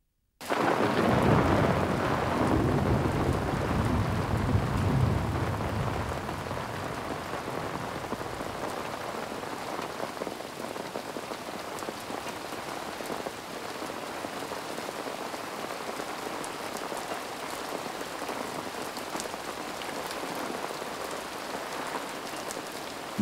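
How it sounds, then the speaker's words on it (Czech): A powerful thunderstorm with heavy rain over a carp-fishing camp, heard from a shelter: a deep rolling thunder rumble opens, then a dense, steady downpour hisses on for the rest of the clip. "Mohutná bouřka doprovázená blesky a silným liákem nám poprvé připomněla kouzlo pobytu v jistém přístřešku."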